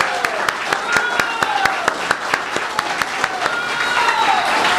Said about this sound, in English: could we have a real round of applause for the leadership of the African People's Socialist Party?